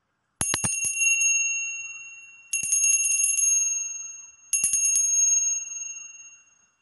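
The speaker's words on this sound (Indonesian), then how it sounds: "lonceng berbunyi" A bright bell rings three times at even intervals, each strike sharp and clear, its tone lingering and fading slowly before the next, in a quiet setting.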